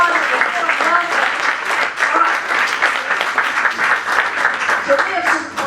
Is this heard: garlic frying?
no